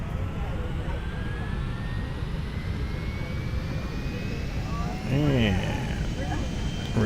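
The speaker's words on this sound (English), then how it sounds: "I'll hear the engine spool up." An L1011 jet engine spools up in a flight simulator, a steady broad roar with a slowly rising whine, while a voice speaks briefly over it near the end.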